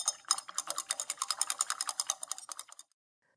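White satin paint being stirred with baking soda, a quick, steady run of small scraping clicks and taps of the mixing tool against the container, close and fairly quiet, then stopping abruptly.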